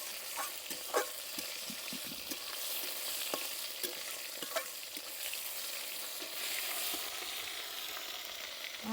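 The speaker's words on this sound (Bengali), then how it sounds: "একটু ভাজা ভাজা করে নেব টমেটোটা।" Chopped tomato frying in oil with bay leaf sizzles softly and steadily in a pan, broken by scattered scraping knocks of a spoon stirring, with no talking.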